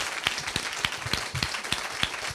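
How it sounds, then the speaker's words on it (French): Scattered applause from a small audience at a forum closing session, with a handful of distinct, fairly evenly spaced claps that are soft and slightly distant. "Ça mérite un applaudissement."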